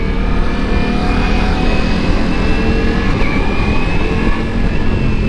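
Ducati Multistrada V4S Pikes Peak motorcycle riding with the throttle closed, a steady engine drone with loud wind rush throughout and no distinct revving.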